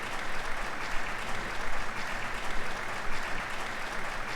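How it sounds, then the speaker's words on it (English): Theatre audience applauding at the end of an operetta in the video game Trails of Cold Steel, a steady, even crowd of clapping hands at moderate volume with no voices. "And it must be over, because they're applauding"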